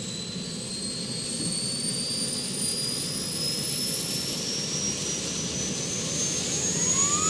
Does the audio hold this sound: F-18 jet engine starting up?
yes